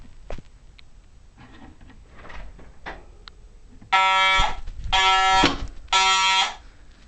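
Three loud, harsh mechanical horn blasts of a Simplex 4010 fire alarm system, each lasting about half a second, following quieter background clatter and rustling.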